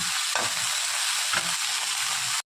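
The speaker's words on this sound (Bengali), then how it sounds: "ফুলকপিটা ভাজা ভাজা করে নিই," Close, steady sizzle of cauliflower frying in oil in a pan, with a couple of soft stirring scrapes, cut off abruptly at the end.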